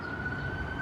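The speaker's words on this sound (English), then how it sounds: "There's the assist ambulance," An assist ambulance siren holds a single steady wailing tone at a distance, fairly faint over a low background rumble of street noise.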